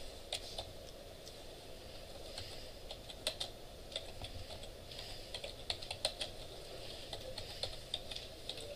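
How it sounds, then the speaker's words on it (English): Keyboard typing during a web development lecture, a run of light, irregular key clicks at moderate distance over a steady background hum of room noise, with no talking. "Let me Google real quick."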